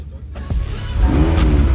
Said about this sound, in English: I'm gonna fire up the McLaren